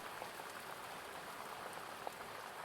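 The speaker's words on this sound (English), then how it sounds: "the greater sound of the rain hitting all of the surrounding trees" Steady rain pattering on the leaves of surrounding forest trees at a clearing by a lake, a soft, even hiss with scattered drops, faint and continuous.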